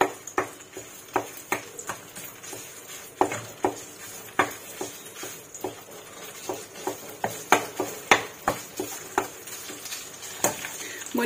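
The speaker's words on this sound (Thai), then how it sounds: "เราก็ผัดพริกแกงให้หอมค่ะผัดกับน้ำมันนี่แหละค่ะ" Red curry paste stir-fried in hot oil in a pan, ahead of adding chicken frames: a steady soft sizzle broken by sharp, regular spatula clacks against the pan, repeating roughly every half second.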